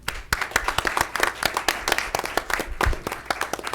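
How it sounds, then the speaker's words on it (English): A room of attendees at a school board meeting clapping, sharp, brisk handclaps merging into steady applause that carries through without pause. "Let's give them all another round of applause"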